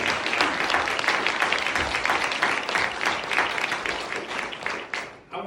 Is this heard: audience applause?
yes